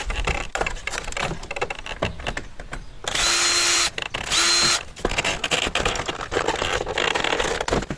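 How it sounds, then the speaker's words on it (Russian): A power tool unscrews the mirror adjustment fastener on a car being stripped in a garage, sounding in two short whirring bursts amid clattering handling noise. No one speaks. "Сейчас регулировку зеркала открутим."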